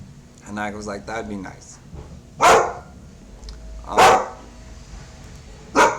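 Pet dog barking three times in sharp, loud single yaps spaced a second or more apart, following a stretch of someone talking nearby.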